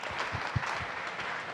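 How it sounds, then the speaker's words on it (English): Applause from a conference audience after a panel session, a short, soft, steady patter of many hands at a distance, with a few closer claps standing out. "Please give them a warm round of applause."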